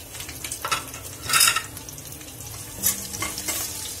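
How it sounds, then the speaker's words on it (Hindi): Finely chopped garlic fries in a hot pan with curry leaves, a steady sizzle broken by louder scraping stirs near the start and again toward the end. "और सिर्फ 1 मिनट के लिए ही हम हमारे लहसुन को भूनेंगे"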